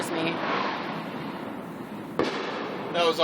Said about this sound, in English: That was awesome. That was the greatest firework yet.